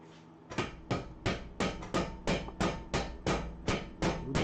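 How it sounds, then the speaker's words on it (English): Roughly a dozen sharp metal strikes land at a steady rhythm, close and loud, as the back end of a tool is hit against a car axle nut to push the axle out during a clutch job. "you're gonna hit it with the back end of this right here to push the axle"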